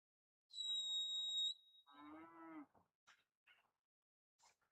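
A cow moos once in a large open cattle field at a stockdog finals trial, a drawn-out bellow preceded by a high whistle, followed by a few faint short sounds in an otherwise quiet setting.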